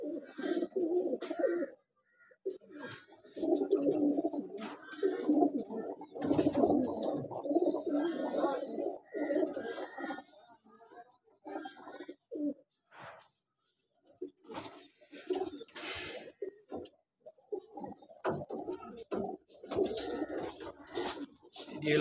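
Flying pigeons kept on a rooftop coo in repeated low, throaty bursts, close and fairly loud, with overlapping calls and brief pauses between rounds.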